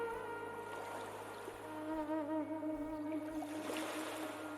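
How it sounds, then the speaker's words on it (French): Soft, continuous wash of ocean waves breaking on a shore, faint and steady, with a low droning tone running underneath and no voices. "Vous voilà maintenant devant les vagues"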